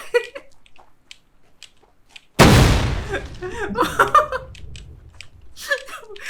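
A sudden booming explosion from a bomb in the video game The Front bursts out and rumbles away, amid scattered talk and laughter before and after.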